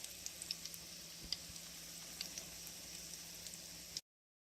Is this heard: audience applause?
no